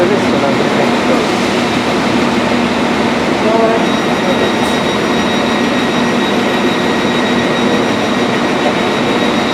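LNER train passing through a station near Leeds, a loud, steady rumbling roar that holds throughout with a faint high whine on top.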